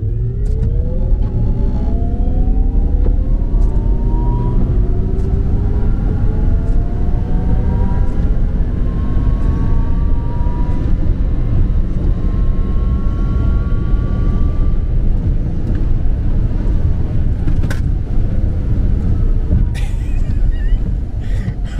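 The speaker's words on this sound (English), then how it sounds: "Track DSC, come on, give me traction, there we go, and 0 to 100, here we go" An electric car with Track DSC accelerates hard from 0 to 100 on a wet road, a rising whine of motor and tyre roar climbing steadily in pitch for about twenty seconds, loud and close, with occasional clicks.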